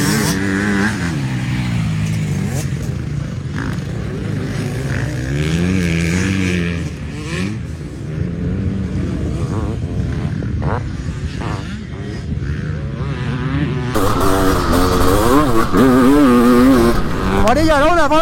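A 500CR motorcycle, fully fuelled, with its engine revving and pulling hard under a rider's voice talking over it, the engine note rising and falling in pitch and loudest toward the end.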